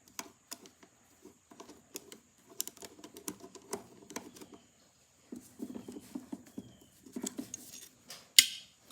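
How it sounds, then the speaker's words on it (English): Small metal clicks and scrapes of a thin screwdriver working a screw loose from a rusted Edison Home phonograph motor, coming in irregular bursts of close, quiet ticks and grinding, with a sharper snap near the end. "That's why I use this thin screwdriver."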